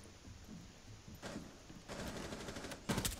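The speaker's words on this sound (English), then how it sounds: "they're upstairs, above A, shooting down through the hatch" Gunfire in Rainbow Six Siege on the Chalet map, shot down through a floor hatch from upstairs, with short bursts of shots rising toward a sharper, louder volley at the end.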